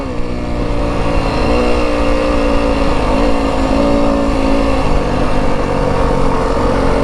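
A 2025 Yamaha WR 250F dirt bike pulls steadily in second gear off-road in soft ground, its engine loud and close, holding a continuous raspy drone with slight pitch swells and no voices.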